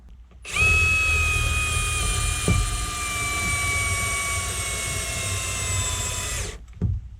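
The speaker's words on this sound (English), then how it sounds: "I'll go through that with the screwdriver." A cordless screwdriver drives screws inside a Volkswagen camper van under conversion, giving one long, loud, steady motor whine that holds for about six seconds, then cuts off, followed by a brief clunk.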